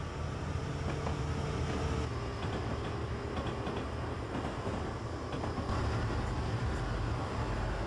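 Four locomotives haul a freight train on Sherman Hill in Train Simulator 2015, with a steady low diesel rumble and faint mechanical rattling that holds constant at a quiet, even level.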